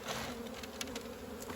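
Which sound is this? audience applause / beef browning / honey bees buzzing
honey bees buzzing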